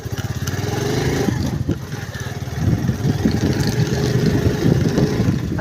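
Motorcycle engine running nearby in a rural village, a steady low chugging idle that rises slightly partway through, loud and close with no speech over it.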